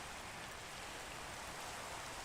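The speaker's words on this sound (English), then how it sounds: "Oh, the rain's coming our way." Steady rain falls in a video game, a dense, even hiss that holds unchanged for the whole stretch with no voices over it.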